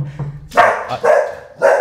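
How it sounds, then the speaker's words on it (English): A dog barks three times in sharp, close bursts, indoors during a podcast conversation, with short pauses between the barks. "oh, the dog's here."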